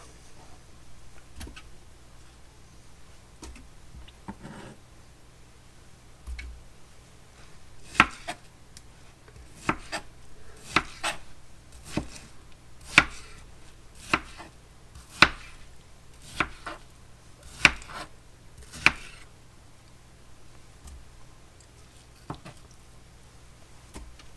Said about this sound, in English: Cutting it into chunks like that.